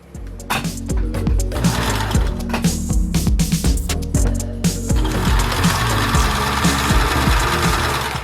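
A sewing machine stitches the hem of a skirt made from a bedsheet, a close, loud rapid mechanical chatter in several bursts, with brief pauses and fabric handling between runs.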